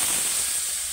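A loud, broad hiss of sizzling steam as water hits a hot pan of fried vegetables, prawns, potato and banana stem, close and continuous for under a second.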